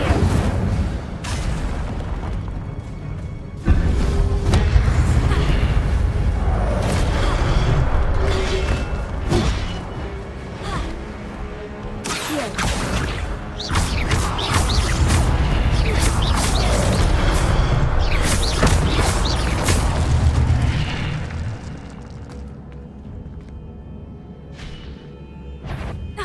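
A fiery Incendio spell blasts in Hogwarts Legacy amid repeated booming bursts and thuds through a busy, loud stretch of game combat, with voices speaking over the action.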